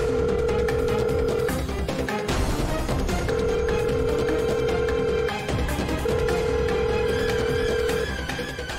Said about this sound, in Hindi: वेट, मैं आर्यन नूं कॉल करदा।